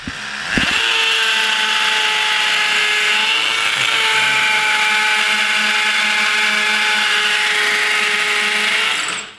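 A power drill from Amazon, used while setting up a studio, whirs at steady high speed for several seconds after a sharp start, loud and close, with no talk, then cuts off.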